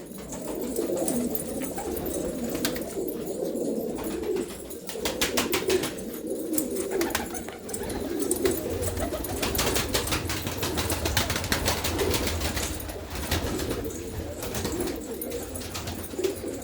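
Pigeons in a village loft coo continuously and fairly close, with some wing flapping mixed in, and no one speaks.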